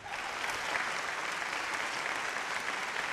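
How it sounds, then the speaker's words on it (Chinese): A studio audience at a dating show claps steadily, a dense wash of many hands at moderate distance that holds even and unbroken from start to finish. "掌声送给轻松。"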